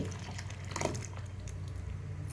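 Faint trickle and splash of water being poured into a pot of dal with gongura, brief and close, with a few small drips.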